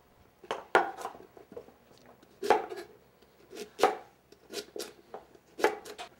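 Peeled parsnips being roughly chopped on a cutting board, a series of distinct, irregular knife knocks up close, spaced out with short pauses and no talk.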